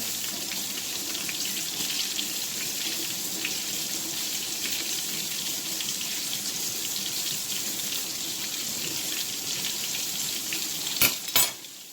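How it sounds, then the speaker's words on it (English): Food with cream and milk bubbles and sizzles in a pot while a big spoon stirs it, a steady close hiss throughout, with a couple of sharp knocks near the end. "Grab my big spoon here, and give it a good stir."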